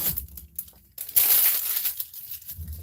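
Tape being ripped off a sewing machine, a crinkly tearing rasp that swells loud for a couple of seconds after a quieter rustle, with low handling thumps around it.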